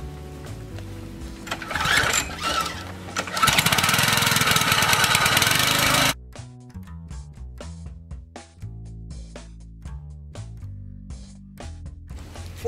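A gas engine on a hydraulic wood splitter is pull-started and runs loud and rough for a few seconds, then drops to a steadier, quieter chugging with intermittent mechanical clanks.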